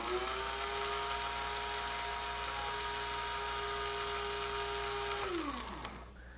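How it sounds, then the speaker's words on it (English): A Bodum Bistro electric blade coffee grinder grinding coffee beans finely, a loud, close, high-pitched motor whine that holds steady, then spins down and stops near the end. "you should not run the Bodum Bistro coffee grinder for more than 60 seconds at a time"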